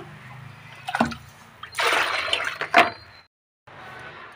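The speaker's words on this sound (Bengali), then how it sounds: "পুরো জলটা আমি বের করে নেব" Dirty water scooped and drained out of an air cooler's tank with a mug, heard as sloshing bursts and a longer pour, followed by a brief silence and a faint steady hum.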